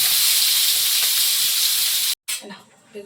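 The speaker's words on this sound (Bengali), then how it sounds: "বেগুনগুলো একটু ভেজে নেবো" Eggplant slices frying in hot oil give a steady, loud hiss and sizzle, broken by a brief cut and then a quieter, uneven crackle.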